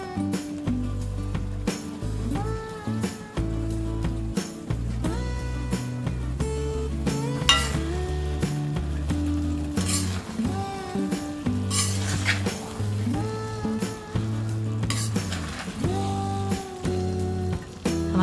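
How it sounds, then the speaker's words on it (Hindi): Fried paneer pieces tossed into a sizzling chilli paneer (paneer Manchurian) sauce give a steady, moderate sizzle with occasional utensil scrapes, running continuously beneath louder background music. "अब हम इसमें डालेंगे ये फ्राइड पनीर पीसेस।"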